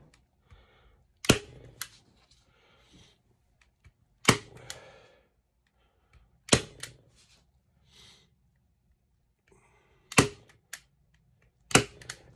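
Staple gun driving staples into a beaver pelt stretched on a board: five sharp, loud snapping shots spaced a few seconds apart, with faint handling rustles between them.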